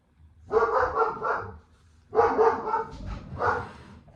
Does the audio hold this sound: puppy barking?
yes